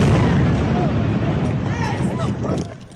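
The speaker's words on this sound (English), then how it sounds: "Residents of Doha flee explosions." Explosions from Israeli airstrikes in Doha, a loud, dense roar of booming blasts that fills the whole clip and then fades away at the end.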